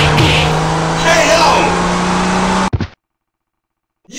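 Loud racing-car engine roar with revving and tire noise in a MUGEN fighting video game, running steadily for under three seconds before cutting to silence, with game voice lines mixed in.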